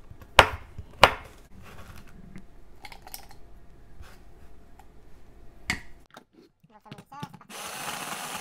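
A knife cuts stale bread into small pieces on a board, giving two sharp, loud chops at the start followed by quieter, irregular cutting taps, then a soft rustle at the end.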